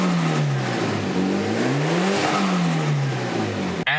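A Mitsubishi Evo 7 rally car engine fitted with a new pod filter revs loudly and close, its pitch rising and falling in repeated sweeps with a raw induction roar, steady and without talk.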